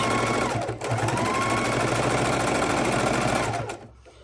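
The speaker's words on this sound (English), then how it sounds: "bring it over to your sewing machine and we'll sew it" A sewing machine stitches fabric steadily, its rapid mechanical stitching whirring nonstop with a brief hitch early on before winding down at the end.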